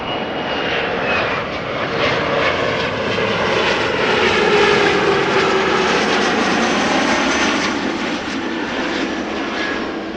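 Airplane at Amsterdam Schiphol Airport, a loud continuous engine roar with a slowly shifting whine, swelling near the middle and fading slightly toward the end, heard alone.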